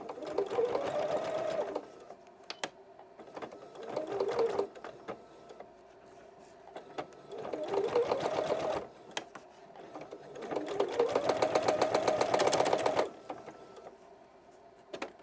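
A sewing machine stitches around a fabric corner bookmark in several rapid whirring runs separated by short pauses, close and clear, with quiet talking between bursts.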